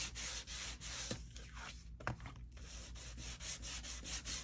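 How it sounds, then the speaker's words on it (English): A small hand sander roughs up a strip of tape on a crafting journal, giving a steady, close buzzing rub that pulses in short strokes, with a brief pause near the middle and no talking. "I'm going to use my little sander. I'm going to rough up this tape."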